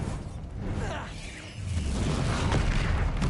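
Bombarda explosive spell in Hogwarts Legacy combat: a whooshing swell followed by a deep booming blast with rumbling low-end, loud and continuous over busy battle sound.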